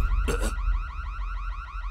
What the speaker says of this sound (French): C'est l'alarme qui indique une présence dans la zone interdite.